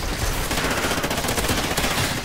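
Sustained automatic weapon fire in the video game Call of Duty Ghosts, a dense, continuous rattle of rapid shots at steady loudness with no pauses.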